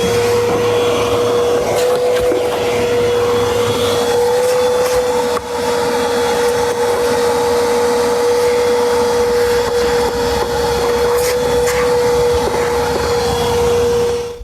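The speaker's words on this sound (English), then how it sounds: "I'm just going to vacuum out this because I like to have a clean surface before starting" A vacuum cleaner cleans the floor of a Jeep Wrangler before new floor mats go in. It drones loudly and steadily at close range with a constant whine, and a brief dip in the middle comes as the nozzle shifts. Nobody speaks.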